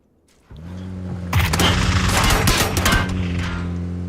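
Suppressed gunfire in a video game, aimed at a passing driver: a sudden rise into a dense burst of rapid muffled shots over a vehicle's engine hum, lasting a couple of seconds.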